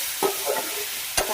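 Potatoes and jackfruit seeds being lightly fried in a pan give a constant hiss, with a few clicks of stirring and one sharp utensil knock near the end.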